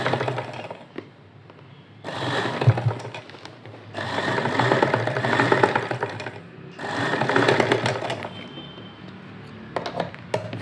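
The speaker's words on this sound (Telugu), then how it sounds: "ఫస్ట్ స్ట్రైట్గా స్టిచ్చింగ్ అనేది చేసుకోవాలి." A sewing machine stitches a straight seam in cloth in three long running bursts, each about two seconds, separated by short pauses, with a brief final burst at the end. The sound is close and clear.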